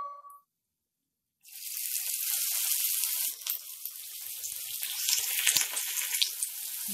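Onions sizzling steadily in hot oil in a pan for chicken curry, with cloves and bay leaf, a loud continuous crackle that starts suddenly after a brief quiet moment.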